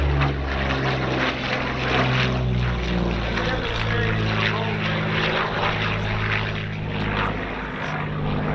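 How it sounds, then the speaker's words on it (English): A TP-40N dual-control training aircraft, about 80 years old, drones loudly at a World War II weekend airshow, its propeller engine a steady, close roar with low harmonic hum throughout, faint voices beneath. "check out our airshow venue with his TP-40N"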